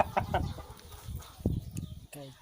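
A seven-to-eight-month-old young Burmese-breed rooster clucks in a series of short, close calls, ending with a brief crow-like note, while a voice speaks faintly in the background.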